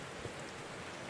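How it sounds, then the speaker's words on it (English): Black ichor rains down in the Call of the Sea game, heard as a faint, steady hiss of rainfall with a soft wash like surf and wind and no voices. "That is the black ichor raining down"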